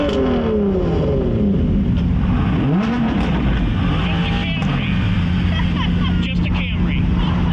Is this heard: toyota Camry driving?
yes